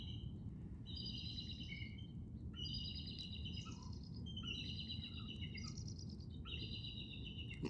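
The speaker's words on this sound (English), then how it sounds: "this very beautiful synchronous effect of the chirping of the birds" Birds chirping in a rain forest, bright repeated trilling calls in several overlapping bursts over steady low background noise, moderately distant and fairly faint.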